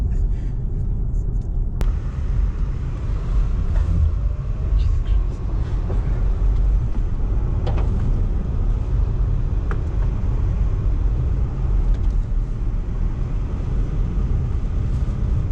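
A Cupra Born electric car driving on the Knockhill racetrack, a loud, continuous road and wind rumble from inside the cabin, with people talking over it.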